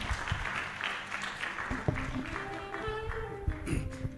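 Audience applause greets the Secretary General of the Kenya Red Cross as he walks on stage at a training programme launch, a dense wash of clapping with faint voices and a sustained musical tone rising through it.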